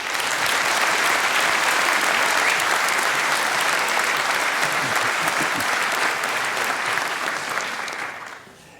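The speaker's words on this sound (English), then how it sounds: "Please welcome him with a huge round of applause." A conference audience at a hacker congress gives sustained applause to welcome a speaker, a dense, steady wash of clapping that holds loud for about eight seconds before tapering off at the end.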